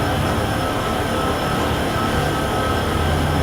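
A heavy freight train with four locomotives pulling at the front and four pushing at the rear climbs a grade in Train Sim World 6, giving a steady loud engine drone and rail rumble with no gaps.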